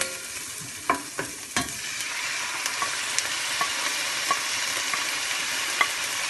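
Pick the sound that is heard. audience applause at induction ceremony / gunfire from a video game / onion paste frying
onion paste frying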